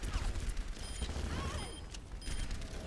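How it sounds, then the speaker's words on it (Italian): Rapid gunfire from a first-person shooter game, Overwatch, crackling under steady background game noise and faint voices, fairly quiet overall. "Io sparo."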